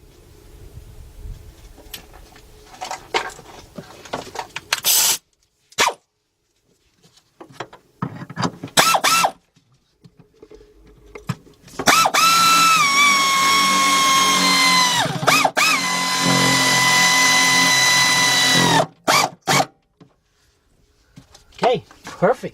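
A power tool whirs in short bursts and then a longer sustained run while tightening a fastener on the EVAP canister vent of a 2006 Chevy Impala 3.5, with someone talking between bursts.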